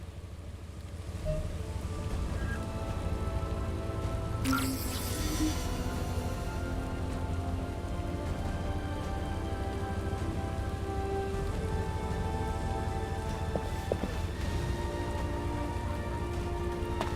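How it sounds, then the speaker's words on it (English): Rain falls steadily in a video game, a dense, even hiss of drops on surfaces that fills the scene for the whole stretch, with a brief brighter splash early on and no talk over it. "this rain feels a lot like tears"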